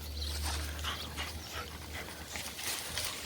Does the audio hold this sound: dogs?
yes